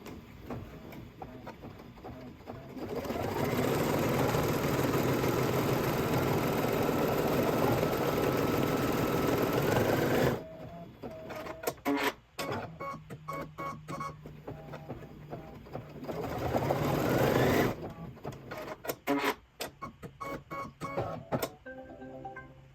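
Embroidery sewing machine stitching the outline of a thread spool and circle onto fabric in a hoop, a loud steady mechanical whirring in two long runs broken by stops and irregular clicking and stepping sounds, with no talking.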